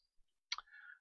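A single sharp computer mouse click, close and crisp, opening a virtual application, followed by a brief fading electronic tone; no one speaks.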